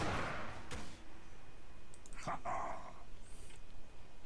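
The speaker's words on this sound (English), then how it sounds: "Just kill the stupid dog that won't die." A dog creep in the Dota 2 video game barks and yelps in a few short bursts amid game effects and a background hum, moderately loud.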